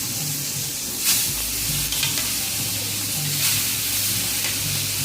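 Rohu fish fries in oil on a tawa, a loud, continuous close-up sizzle and crackle with a few brief bursts as the pieces shift, no voices.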